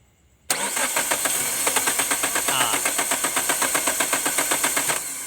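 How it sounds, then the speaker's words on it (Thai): A Toyota Corolla with a 4A-FE engine and an error-code fault cranks with a sudden start and a rapid, even chugging rhythm for several seconds, then fades as it stalls. No one talks over it. "สตาร์ทปุ๊บก็แวบเดียวก็คือจึ้มเดียวแล้วก็ดับไปเลย"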